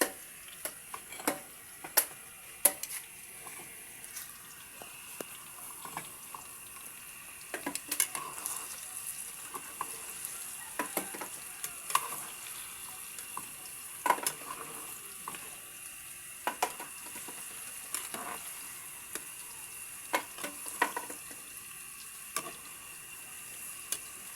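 Bananas coated in sugar are stirred in a frying pan for banana cue, giving steady, close scraping and clicking of the utensil over a faint sizzle, with no talking.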